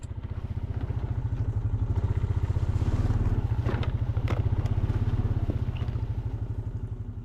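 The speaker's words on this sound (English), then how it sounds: "Jump back on the four-wheeler and see if we can cross through the rest of this." Four-wheeler ATV engine running steadily as it rides across rough property, a close, constant low throbbing rumble with faint clatter and crackle.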